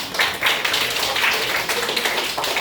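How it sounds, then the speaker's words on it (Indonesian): An audience at a resilience talk claps for Hilal, a dense, even patter of many hands filling the short span at close, loud level with no voices. "terima kasih, tepuk tangan Hilal"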